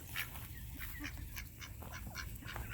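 Ducks near a backyard chicken coop honk and quack in short scattered calls over a steady low rumble, the birds close and moderately loud with no talking.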